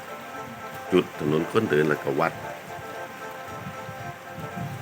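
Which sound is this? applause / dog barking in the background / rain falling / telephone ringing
rain falling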